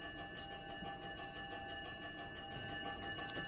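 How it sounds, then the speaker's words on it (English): A bell for prayers rings steadily and continuously, its bright metallic tone sustained with a slow pulsing shimmer, heard at a moderate distance. "Bell for prayers, Mr. Holden."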